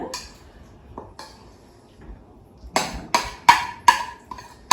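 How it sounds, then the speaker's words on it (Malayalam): Prawn mix being added to a pot for prawn biryani: a few soft taps, then a run of sharp metallic clanks and scrapes of a spoon against the pot, close and fairly loud. "പ്രോൺസിൻ്റെ മിക്സ് ചേർക്കണം"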